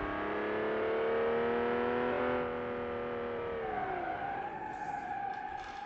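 An old Ferrari mod car in BeamNG.drive racing game drones with a steady harmonic engine tone that holds high, then drops in pitch as it shifts or eases off, fairly quiet with no talk.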